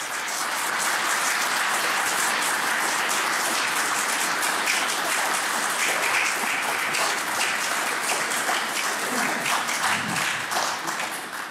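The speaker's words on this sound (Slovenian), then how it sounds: "en aplavz za njega" Audience applause for a guest at the close of a live show in Škofja Loka, dense sustained clapping from a full crowd, loud and steady for the whole stretch.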